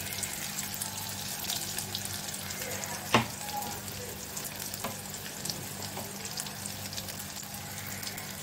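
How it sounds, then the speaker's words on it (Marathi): Ground spice paste with garlic frying in hot oil with curry leaves, a steady low sizzle running throughout with one sharp clatter partway and occasional faint knocks. "तेल बऱ्यापैकी तापलेलं आहे। मी हे वाटण सगळं यात घातलं आहे।"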